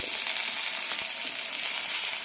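Tomato sautéed with Kashmiri chilli, chilli, asafoetida, coriander and turmeric powders in a pan for a spicy-sour bitter gourd curry, giving a steady close hiss of sizzling with faint stirring scrapes.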